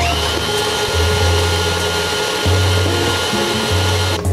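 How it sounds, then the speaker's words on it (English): An electric mixer whips butter and icing sugar for a peanut butter buttercream, its motor running as a loud, steady whir that rises slightly in pitch a few times, with no talking. "We're just gonna keep whipping up the butter and icing sugar for a little bit so that everything's nice and smooth"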